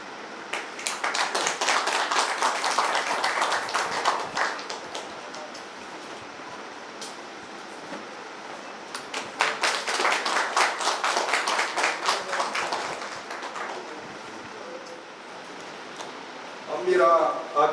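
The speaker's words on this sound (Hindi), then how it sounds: "मेरा उपस्थित सभी से आग्रह रहेगा कि जोरदार तालियों से सम्मान समारोह का" Audience clapping at an award ceremony during an electricity festival in India, two sustained bursts of dense applause separated by a quieter stretch, with a voice briefly heard at the end.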